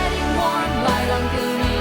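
Full music mix through a Waves Renaissance Compressor on the mix bus with a slower attack, kick and snare hits punching through more openly beneath the melodic vocal and bass, steady and continuous at moderate loudness.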